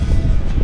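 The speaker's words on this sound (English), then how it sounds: "Very, very, very, very windy. Blowing sideways." Strong gusting wind on an exposed sand trail on a steep freeride mountain bike descent, roaring as loud, continuous low buffeting across the microphone.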